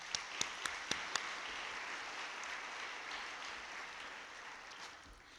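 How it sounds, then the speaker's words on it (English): A conference audience at a municipal league general session gives a round of applause: a few sharp individual claps open it, then a soft, distant wash of clapping continues faintly. "Let's give them a round of applause."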